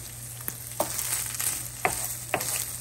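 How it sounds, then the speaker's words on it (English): Bacon browns in a pan for Polish sour rye soup, a steady close sizzle marked by a few sharp utensil taps and scrapes against the pan, no voices. "My bacon is browning"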